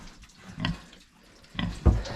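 Low snorting grunts from a pig come in a few separate bursts, close by, with a louder grunt near the end and no talking.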